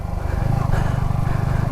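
Yamaha R15 sport motorcycles run on a small race track, giving a loud, close, steady engine drone with a buzzing pulse and no break.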